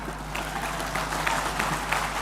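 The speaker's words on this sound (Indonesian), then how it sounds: "Tepuk tangan kita loh." Brief burst of audience applause at a Bank Indonesia payment-system event, dense steady clapping from a crowd in a hall with a faint low hum underneath.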